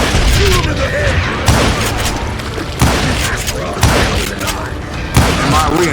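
Gunfire in Call of Juarez: Gunslinger comes as heavy, booming shots at roughly one-second intervals, loud and close, with a voice talking between them.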